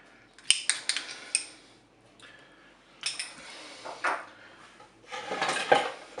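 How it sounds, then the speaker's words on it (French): Spaghetti, chicken and carrots stirred in a Cookeo multicooker pot, with clinks and scrapes of a utensil against the pot coming in bursts and pauses, close up, with no talking. "Et puis, je vais mélanger."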